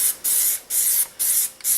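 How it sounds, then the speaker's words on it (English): Aerosol can spraying Plasti Dip rubber coating onto a car wheel, four steady hissing bursts of about half a second each separated by short pauses, close and loud with no talk. "we're just going to spray it all down"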